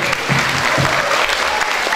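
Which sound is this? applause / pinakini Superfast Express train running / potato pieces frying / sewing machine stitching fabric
applause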